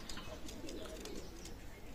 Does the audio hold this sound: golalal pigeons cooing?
yes